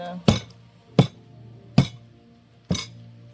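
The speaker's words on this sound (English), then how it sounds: "So I'm going to break it because it has a shell and it have to crack it." A nutmeg shell is struck and cracked four times, each a sharp, close knock spaced roughly a second apart, with a faint ringing tone lingering between the hits.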